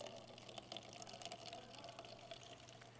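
Soapy water drains from a walk-behind floor scrubber through an opened valve inside the hose, giving a steady, faint trickling pour with light splashy bubbling, heard alone throughout.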